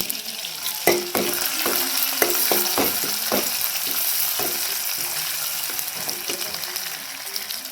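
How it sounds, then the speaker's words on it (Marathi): Finely pounded garlic and coriander sizzle in hot tempering oil with mustard seeds, a steady frying hiss punctuated by several sharp spatula scrapes and knocks against the pan, close and moderately loud with no speech. "लसूण आणि कोथिंबीर थोडीशी बारीक करून घेतली ती टाकली"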